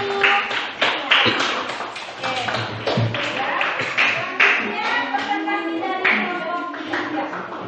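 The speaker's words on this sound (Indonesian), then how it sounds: "Tepuk tangan untuk kelompok 1." Classroom clapping for a student group, scattered hand claps mixed with taps and voices talking over them.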